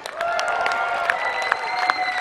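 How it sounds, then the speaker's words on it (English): An audience at a magic show claps steadily for a couple of seconds, dense close applause with a few cheers and a voice under it. "A big round of applause."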